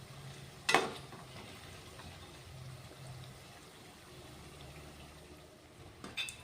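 Peanuts for masala peanuts fry in oil that was heated on high flame and then turned to low. A soft, steady sizzle bubbles along quietly, with a louder splashy burst near the start and another near the end.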